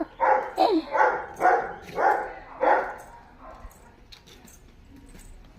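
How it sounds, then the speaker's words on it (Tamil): A big dog barks five times in a steady rhythm, loud and close, followed by quieter background noise. "நாய் பெரிய பெரிய நாய் கிடக்கு."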